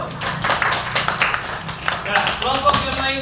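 Children in a classroom clapping for a group, a short burst of brisk, uneven hand claps alongside a teacher's voice.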